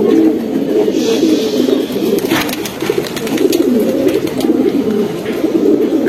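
Pigeons coo in a loft in Hemayetpur, with repeated soft throaty calls rolling close and loud over a busy background of wing flutters and faint chirps.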